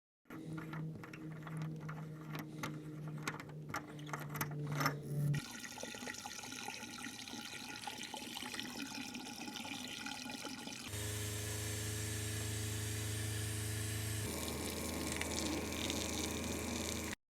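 Water rinsing and draining from a Sprinter camper van's tank during spring prep, parked on a slope: a steady, fairly quiet gush and trickle with a pump-like hum that shifts in tone partway through, no talking.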